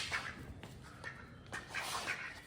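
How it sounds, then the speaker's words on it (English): A duck quacks several times in a garage during work on a 1970 GMC truck, short raspy calls in uneven bursts, fairly close but not loud. "if the duck would let me measure."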